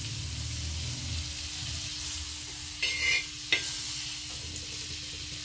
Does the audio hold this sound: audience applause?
no